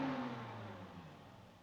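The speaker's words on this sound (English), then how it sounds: "He gave it 1 or 2 bursts as if he was warming it up." A car engine revving in a short burst, starting loud and then easing into a steady fading hum, heard alone.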